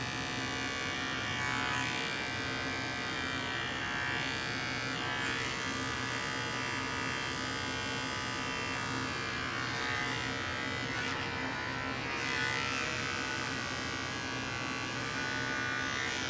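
Electric clippers buzz steadily while trimming around a dog's eyes, a close, continuous whine with slight shifts in pitch as the blades move through the fur. No one speaks.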